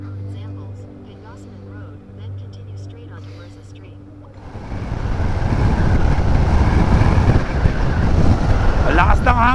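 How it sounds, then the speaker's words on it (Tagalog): Strong wind buffets a microphone while riding a motorcycle at night on a Philippine road, first a quieter stretch with steady engine hum, then a loud, sustained roar of gusting wind from about the middle onward. "Ang lakas ng hangin sa lugar na to."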